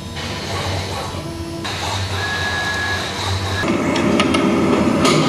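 A CNC router cuts material in a home shop, giving a steady, loud mechanical whir and grind that runs unbroken for several seconds, shifting in pitch and texture as the cut changes, with no talking.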